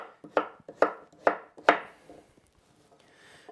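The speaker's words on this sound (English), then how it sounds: "I'm just chopping these up to go in the sweet potato mash." A knife chops onions, chilies and peppers on a board: four evenly spaced, crisp thuds, each louder than the last, then a few lighter taps and scrapes, close and with no voices.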